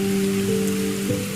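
Rain patters on a roof in a brief, even wash of drops, with mellow sustained tones beneath it.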